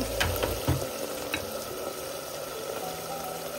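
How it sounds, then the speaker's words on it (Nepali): Local chicken meat fries in a pan with a steady close sizzle, broken near the start by a few stirring scrapes and clanks. "म चाहिँ यसलाई त्यसबाट एकछिन भुट्छु ल"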